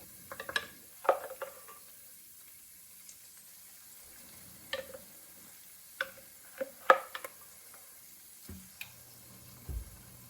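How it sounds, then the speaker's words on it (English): Ham browned golden in a pan with sofrito just added, for homemade Puerto Rican cooking; soft sizzling runs throughout, broken by several sharp scraping clinks of a spoon stirring against the pan, close and fairly quiet. "I'm just gonna stir everything in and let that continue to cook."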